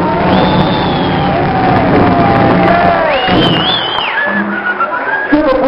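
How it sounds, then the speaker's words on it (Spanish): Party crowd at a girl's 15th birthday celebration cheers, whoops and shouts loudly, with clapping mixed into the noisy roar and a voice calling out over it. "¡Aplausos para ella!"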